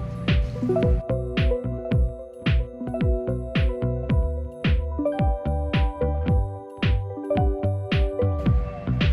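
Soft, wet squishing repeats in a steady rhythm as fresh chhana (paneer) is kneaded and mashed by hand on a plate, close up beneath a tonal musical background.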